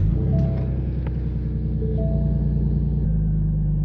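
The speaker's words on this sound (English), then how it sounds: "Start this damn car." A car engine starts and runs with a loud, close, low rumble throughout that shifts and settles slightly toward the end.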